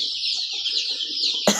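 Twelve-day-old Andijan black chicks chirp in a steady, continuous high peeping chorus close by, with a brief louder rustle at the very end.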